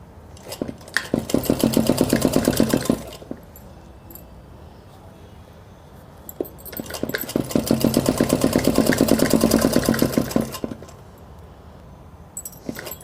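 A sewing machine stitches the folded hem of a ladies' suit, running in two sustained rhythmic bursts of rapid needle clatter separated by a quiet pause, close and fairly loud.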